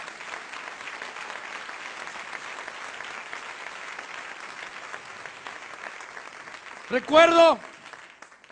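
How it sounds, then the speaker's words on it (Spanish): A church congregation applauds steadily for several seconds during a Spanish-language testimony service, followed by a brief spoken word near the end. "Dele un aplauso al Rey."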